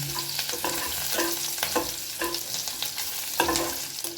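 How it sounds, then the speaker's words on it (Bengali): Chicken with green chillies is stirred in a pan over a low gas flame, giving repeated scraping, clinking strokes against a steady frying sizzle, close and clear, with no talking. "এবার এটা একটু ভালো করে নাড়িয়ে নেব"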